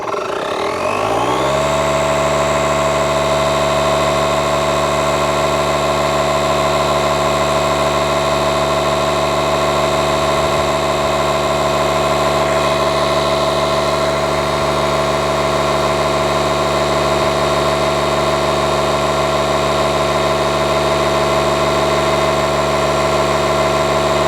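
A DeWalt 20V MAX DCC020I cordless tire inflator runs steadily while pumping a car tire, a loud, even motor and compressor drone that starts up at once and holds without a break, with no voices.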